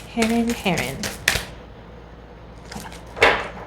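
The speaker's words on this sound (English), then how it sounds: "let's shuffle again." Tarot cards being shuffled by hand, heard as two short papery riffling bursts, with a brief voice-like sound near the start.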